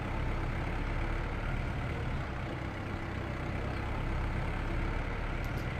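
A tractor engine in Farming Simulator 22 drones steadily at low pitch throughout, a continuous heavy rumble with no talking.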